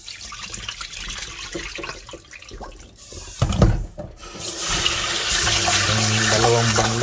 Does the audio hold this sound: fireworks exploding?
no